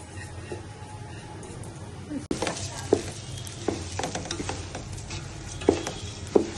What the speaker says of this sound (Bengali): এখন আমি পোলার চালটাকে ভেজে নিব।